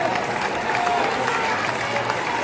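A packed football stadium crowd at a Dundee United versus Hibs league match, both tiers of the stand filled, giving a dense, continuous roar of applause and crowd noise that stays steady and loud throughout.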